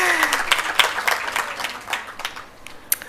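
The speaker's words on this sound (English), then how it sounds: "I don't hear you clapping." Scattered hand claps from an audience at a women-in-agriculture event, uneven and fairly thin, a small crowd clapping without building to full applause.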